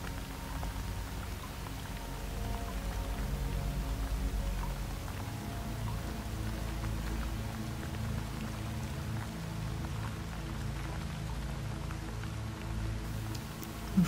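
Steady rain falls on the ground, a dense even patter of countless drops that holds at a soft, constant level throughout with no voices.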